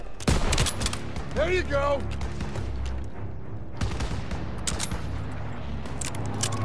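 Gunfire in the World War II shooter Call of Duty WWII rattles in bursts of rapid shots and booms, with dense firing at the start and again later, under excited voices.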